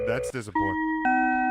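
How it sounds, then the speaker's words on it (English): Doorbell sound effect: a bright two-note electronic chime, one tone stepping to a higher one, ringing out clearly right after a brief bit of speech. "that's a doorbell"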